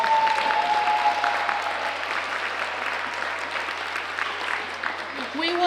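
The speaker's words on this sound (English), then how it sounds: "let's give our teachers a big round of applause" Audience applause for the teachers at a preschool derby ceremony, a steady, full round of clapping that holds for several seconds with crowd murmur and a voice speaking under it.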